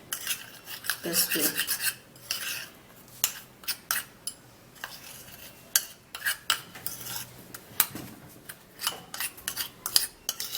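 Mashed banana and baking soda being stirred in a small bowl, irregular scraping and clinking of a spoon against the dish, close and intermittent, with a brief spoken phrase.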